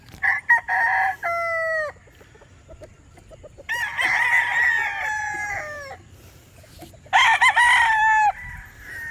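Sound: rooster crowing and chickens clucking

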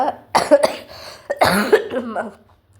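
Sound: cough

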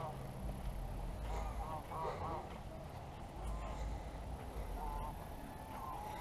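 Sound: geese honking at a park

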